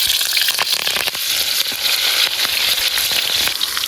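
Green chillies hitting hot oil in a village kitchen pan, a loud, close, continuous sizzle with dense crackling and popping spatter throughout, no voices over it.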